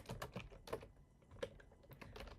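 Fingers type on a computer keyboard in quick, uneven bursts of light clicks, close and fairly quiet, with brief pauses between keystrokes.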